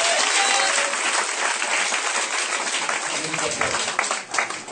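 A church congregation at a deliverance vigil applauds loudly and steadily for several seconds, with crowd voices mixed into the clapping.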